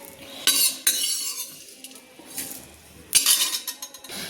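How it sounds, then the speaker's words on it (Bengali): A metal spoon scrapes and clinks against a pan and plate as fried whole spices are moved off the heat, in two short bursts of clatter separated by near quiet. "দেখুন মশলাগুলো ভেজে আমি একটা প্লেটে নামিয়ে নিয়েছি"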